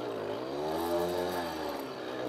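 A small Soviet Riga 30 mini moped engine strains under load, a steady buzzing drone with rising harmonics, loud and close, running continuously without pause.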